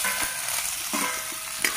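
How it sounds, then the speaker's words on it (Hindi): Onions fry in mustard oil in a kadhai with a continuous close sizzle, broken by several stirring scrapes of a spoon against the metal, no voices. "अच्छे से गोल्डन ब्राउन होने तक भूनेंगे।"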